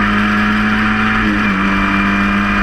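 Historic Formula Ford race cars at Cadwell Park, a steady loud engine drone holding a single sustained note that dips slightly in pitch midway, with no voices over it.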